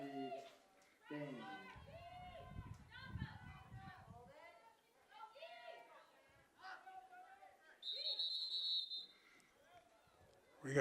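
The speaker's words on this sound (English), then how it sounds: "We got a whistle" A referee's whistle at a high school lacrosse game between Spanish Fork and Desert Hills gives one short, shrill blast late in the clip, cutting through the announcers' running commentary and the crowd.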